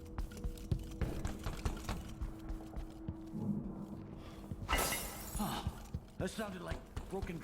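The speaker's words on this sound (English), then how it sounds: "That sounded like broken glass." Glass shatters in the stealth video game Dishonored 2, a sudden bright crash midway through, set among footsteps, clicks and game ambience while someone talks.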